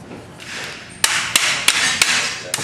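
Hammer blows drive a bearing retainer into the bottom of a steering column, four or five sharp metallic strikes spaced unevenly after a soft scraping lead-in, close and loud with no talking.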